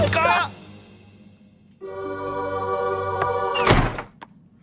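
A door thunks shut with a solid knock near the end, after a stretch of cartoon voices and background music in an animated episode.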